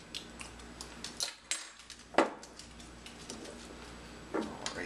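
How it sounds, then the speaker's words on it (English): A gin martini with olive juice being stirred to chill it, giving faint, irregular light clinks and ticks of a spoon against glass, close by with no talking. "Stir that a little bit more to get that really chilled down"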